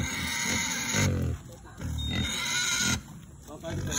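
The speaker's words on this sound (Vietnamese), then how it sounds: "Nhìn heo đắm đuối luôn." Pigs being transported, loud close grunts and squeals in bursts with people talking over them.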